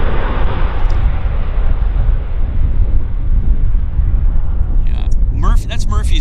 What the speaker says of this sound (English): a WestJet 37's landing right on this runway.